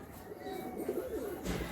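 Pigeons, including Teddy and Kamagar breeds, cooing softly at a pigeon sale in Kolkata, a short low rolling coo under faint background noise.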